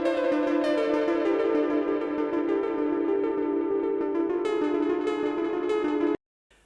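A Prophet Rev 2 synthesizer plays its Eventide preset: a sustained, spacious pad with a steady tone and rising upper notes, held loud and alone for about six seconds before cutting off abruptly.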